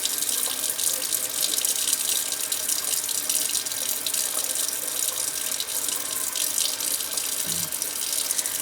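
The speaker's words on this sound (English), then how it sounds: "Turn the water on here." Tap water runs steadily from a faucet into a sink, a constant close rushing hiss throughout with no pauses.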